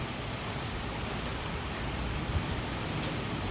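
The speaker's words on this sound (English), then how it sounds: "It is raining." Steady rain in Makati, Manila, Philippines hisses evenly throughout, a dense wash of falling drops with no breaks.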